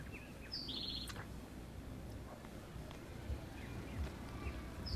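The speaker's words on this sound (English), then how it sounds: "You hear the birds?" Birds chirp outdoors beside a property line near a gravel area, a few short tweets scattered over a steady low background hum, moderately distant.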